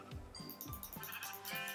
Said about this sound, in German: Hier sind Schafe, komm, wir töten die jetzt einfach.